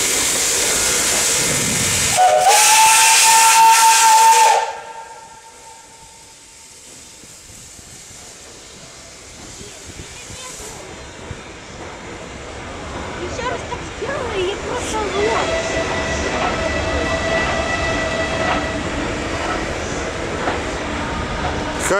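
A vintage steam locomotive, run for Railway Workers' Day in Kharkiv in November 2016, sounds a loud sustained whistle with a burst of steam hiss, then pulls away with chuffing, rolling rail noise and a second whistle.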